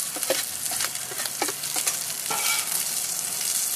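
Shrimp sizzle in a hot paella pan, a continuous bright crackling hiss with small pops and spits, close and steady with no talking.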